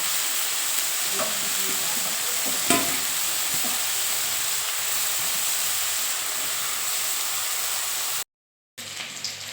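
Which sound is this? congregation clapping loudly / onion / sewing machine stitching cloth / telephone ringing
onion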